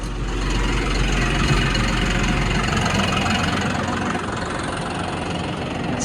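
An Everything Attachments Wicked 72 cutter runs continuously, a loud, close, steady engine-driven drone with a heavy low rumble and no pauses.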